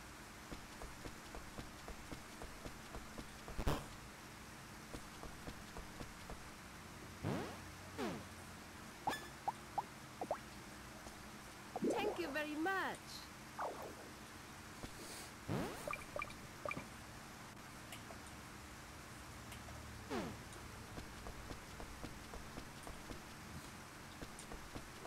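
Steady rain falls in the Rune Factory farming game, a soft continuous patter with scattered drips and light splashes, broken by a few brief game sound effects. No one talks.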